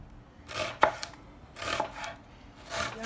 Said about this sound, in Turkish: Soğanlarımızı yarım ay şeklinde doğruyoruz.